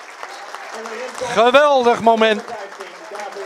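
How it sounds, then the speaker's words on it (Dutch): Football crowd applauds a departing DVS 33 player leaving the main pitch for the last time, a steady clapping ovation heard under a commentator's Dutch voice. "Hij krijgt een ovationeel applaus"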